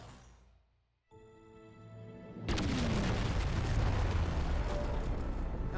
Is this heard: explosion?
yes